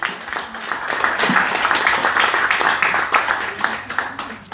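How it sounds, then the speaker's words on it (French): An audience claps at a campaign event where a candidate announces a run in the 2026 municipal elections in Aulnay-sous-Bois, giving a dense, steady burst of applause for a few seconds. "Un applaudissement, s'il vous plaît."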